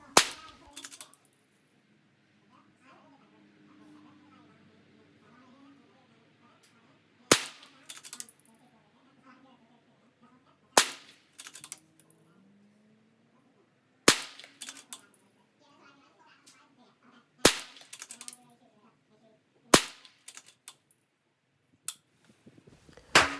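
Single rifle shots from a Ruger Precision Rimfire .22 fired at a 50-yard target, seven or eight sharp cracks spaced a few seconds apart, each standing out loud against a quiet background with faint movement between them.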